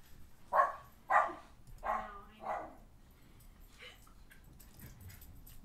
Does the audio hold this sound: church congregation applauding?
no